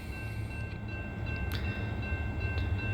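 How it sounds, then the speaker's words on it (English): A CSX intermodal freight train rumbles past nearby with a steady heavy roar and faint squealing tones, continuous and loud throughout. "That train sounds like he's hauling."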